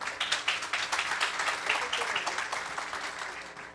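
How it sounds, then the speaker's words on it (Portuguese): Audience applause fills a stage event at a Brazilian export forum, a dense, steady clapping from a crowd that holds near and loud before easing slightly at the end. "eu queria pedir uma salva de palmas para ele, por favor."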